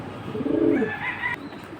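Racing pigeons give a close rolling coo that rises into a brief higher note, over a constant low background hum.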